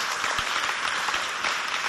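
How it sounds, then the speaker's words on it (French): A burst of audience applause at a school debate competition, dense steady clapping filling the space from start to finish with no voices. "Applaudissez pour les encourager bien fort."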